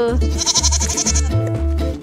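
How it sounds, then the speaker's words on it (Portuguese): Several goats on a ranch bleat loudly and repeatedly up close, a run of harsh wavering calls with short gaps between them. "Esta aqui parece uma alpaca, mas é uma cabra."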